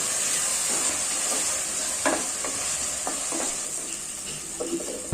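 Halved tomatoes frying in a pan for mint biryani, a continuous close sizzle with repeated scraping strokes of a spoon stirring through, alone without talk.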